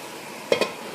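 Tomatoes fry in a pot as a spoon stirs them, two quick close scraping knocks over a low, faint sizzle.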